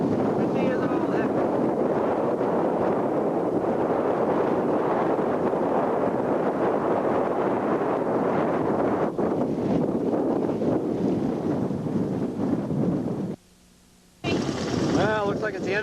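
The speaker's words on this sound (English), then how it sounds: "Windy as all heck." Strong wind buffets the microphone in a constant loud roar on an Alaska trail, briefly cutting out near the end before gusting back in.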